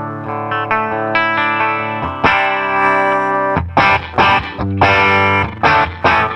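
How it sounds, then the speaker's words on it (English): An electric guitar runs through two JRockett pedals, giving a driven, chorused tone as sustained chords ring out and then break into choppy, separated stabs with clear volume dips between them, all instrumental and without voices. "Now both pedals are on and you can still hear my volume drop."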